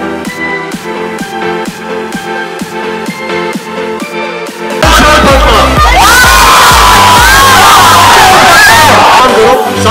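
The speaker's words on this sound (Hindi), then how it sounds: "तो एक बार बहुत बहुत जोरदार ताली बताई।" At a Patna appearance by film stars Bellamkonda Sreenivas and Nushrat Bharucha, a large crowd bursts into loud cheering, whooping and shouting midway, after steady rhythmic music, and keeps roaring close and dense to the end.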